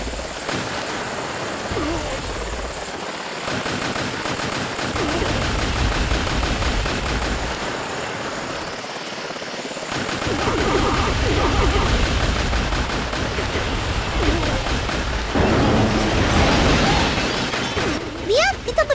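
Rapid automatic gunfire from a video game, bursts of shots over a noisy, rumbling background with a voice talking at times, growing louder and denser toward the end.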